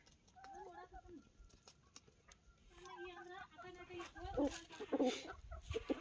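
Chickens at a village home give repeated soft clucks and short calls, fairly near, mixed in with people talking nearby.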